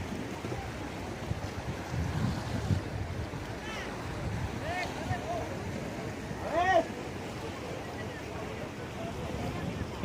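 Sea waves churn at Dhanushkodi, where two seas meet, as a steady, roaring wash of surf and wind noise with a few brief voices surfacing partway through.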